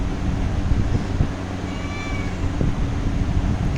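A cat meows a few thin, drawn-out cries against a steady background of outdoor noise and low rumble, the calls faint and somewhat distant.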